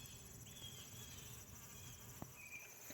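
Faint insect buzzing, likely a bee foraging on blooming rosemary and thyme in an August garden, a thin steady hum drifting in and out against quiet outdoor background with a soft knock near the end.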